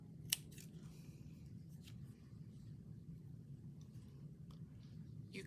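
Scissors snip out a paper heart for a washi-tape craft tag, a few faint close cuts spread over quiet room tone.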